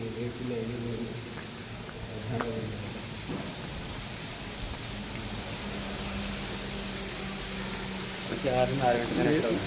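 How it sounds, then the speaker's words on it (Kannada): Water flows steadily at the Ellora Shiva temple, a constant rushing wash heard close by, with a voice talking over it at times. "ನೀರಿನ ಕಲರವ"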